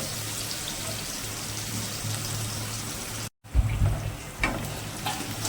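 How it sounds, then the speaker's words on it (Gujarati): Chopped onions sizzling steadily in hot oil in a pan, a soft, even crackle that cuts out briefly and then returns louder with a few stirring knocks. "કાંદા નાખી દઈએ હવે કાંદાને બરાબર ફ્રાય કરી લેવો આપણે"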